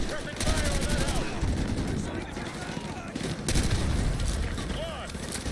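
Sustained machine-gun suppressing fire in Call of Duty: Modern Warfare 2 rattles on without pause, layered with distant booms and battlefield chatter, loud and dense throughout.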